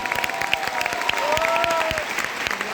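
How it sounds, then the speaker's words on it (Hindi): A large audience gives loud, sustained applause at a network marketing business event, with steady dense clapping, a few cheers and a brief vocal tone running underneath. "ऐसे महान एमडी के लिए अभी तक की सबसे जोरदार तालियां होना चाहिए, जोरदार तालियां"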